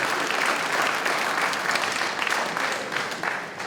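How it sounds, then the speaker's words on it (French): A hall audience at a mayor's New Year address breaks into dense, sustained applause that holds steady and loud throughout. "On peut même applaudir le PNR sur la fin"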